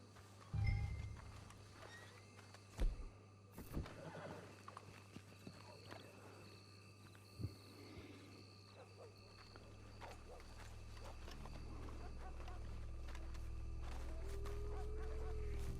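Faint horse hooves clip-clop with a brief whinny and scattered thuds, over a quiet hum that swells toward the end, in the video game Red Dead Redemption 2.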